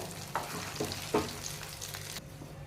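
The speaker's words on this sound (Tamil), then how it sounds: "நெய்லே நம்ம பிஸ்கட் கலவையை சேர்த்துட்டு நல்லா கை விடாமல் நம்ம கிண்டிக்கணும்" Biscuit halwa mixture cooked in ghee and stirred continuously, giving a soft close sizzle with a few scraping strokes of a spoon across the pan in a short burst.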